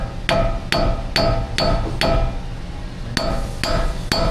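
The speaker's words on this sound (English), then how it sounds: "I'm gonna hammer this pry bar screwdriver in here under this dust cap." Metal strikes ring out as a hammer drives a pry bar screwdriver under a dust cap on a Toyota Tacoma 3.6. The blows are sharp and close, coming at an even pace in two bursts of about five and three hits.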